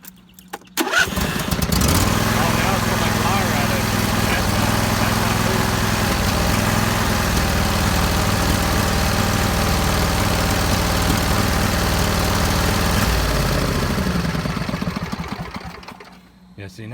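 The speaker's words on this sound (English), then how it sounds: "See, y'all just saw me run this mower." A John Deere riding lawn mower starts, then its engine runs at a loud, steady chugging idle close by for over ten seconds before it stops and winds down.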